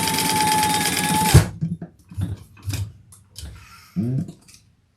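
A domestic sewing machine runs a steady, fast stitch through fabric connectors for a bag, whirring close and loud for over a second before stopping, followed by scattered clicks and handling noises.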